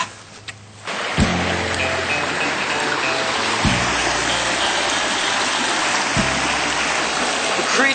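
Creek water rushes steadily and loudly over rocks as someone kicks the stones, several dull thumps standing out from the constant flowing wash.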